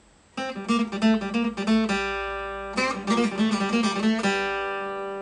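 An electric guitar in open G tuning, played without a slide, picks a quick lick of bright notes, pauses briefly, then plays a second burst that rings out and fades.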